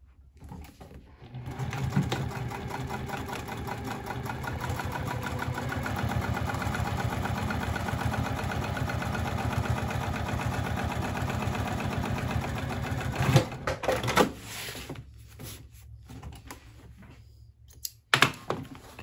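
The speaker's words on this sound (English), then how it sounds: "I'm gonna top stitch that down using a 1/8 seam allowance" A sewing machine top stitches a seam on a crossbody bag, running in one long steady whirring burst for about twelve seconds, then a few short stops and brief restarts near the end.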